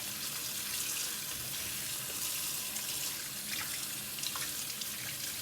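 Harvested dandelions being rinsed of mud under a running tap into a sink, giving a steady, continuous splashing hiss with faint drips throughout and no voices.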